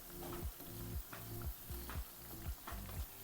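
Dal vada deep-fry in hot oil, a soft constant bubbling hiss with a recurring falling whine about twice a second over it.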